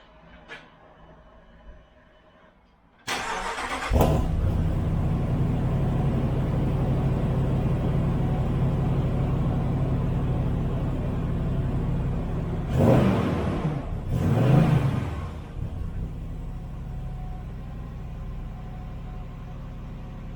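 A Ram truck engine fitted with a new Walkinshaw exhaust cranks and fires after a quiet moment, settling into a loud, steady deep idle rumble. Two short throttle blips swell the exhaust note near the end before it drops back to idle.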